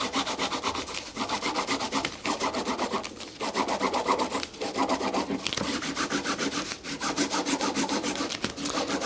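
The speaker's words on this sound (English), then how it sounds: "We want to rub in the area that we will be tying and that will be used for printing." A woodblock being rubbed for Japanese printmaking, a continuous rhythmic rasping scrub of quick back-and-forth strokes, close and steady with brief pauses.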